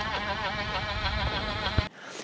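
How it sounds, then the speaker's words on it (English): Mavic rear bicycle hub freewheel spinning with a steady high, wavering insect-like buzz, loud and close, cutting off abruptly near the end. "Here we have the Maverick hub sound system"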